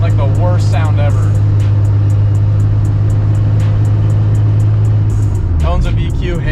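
Nissan 350Z's VQ V6 engine idles with a steady, deep drone close to the microphone, its pitch dipping near the end, while voices talk over it.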